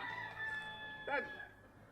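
A rooster crows once in a short burst amid chickens at a farm agritourism site in l'Ametlla del Vallès, fairly close, over a faint steady tone and background murmur.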